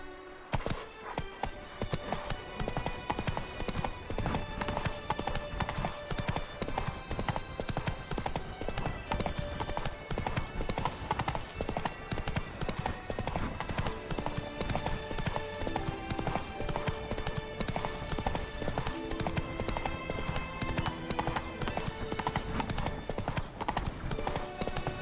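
Roach the horse's hooves beat in a steady, continuous clip-clop in The Witcher 3: Blood and Wine, close and prominent over game music throughout.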